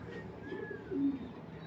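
Soft, low cooing from a long-distance racing pigeon, a faint throaty coo swelling briefly near the middle against a quiet background.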